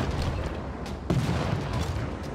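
Artillery cannons fire in a Civilization VI strategy game, giving a couple of muffled booms over a dense, noisy game soundtrack, with a firmer thump about midway through.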